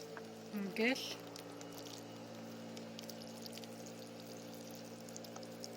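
Water poured over squash seeds collected for next year's planting, a short splashing pour near the start, then a low steady background hum with people talking.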